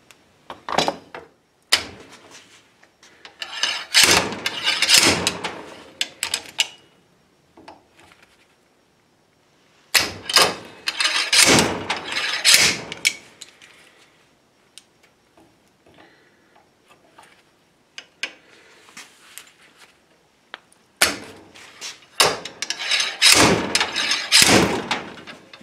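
A clamped hinge pin on a Mustang door is struck with sharp, loud metallic whacks that come in several separate bursts of rapid hits, with quiet pauses between them.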